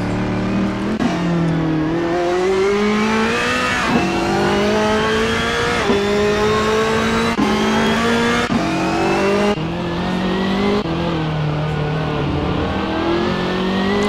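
Race cars on an out lap at Spa in a Gran Turismo race, including a BMW, warming tires through the final chicane: loud, continuous engine drone with repeated rising revs and gear shifts, no voices.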